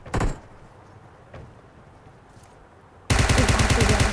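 Gunfire in the mobile battle-royale game PUBG Mobile: a short rapid burst right at the start, a quiet lull, then a loud sustained automatic volley of rapid rhythmic shots through the last second.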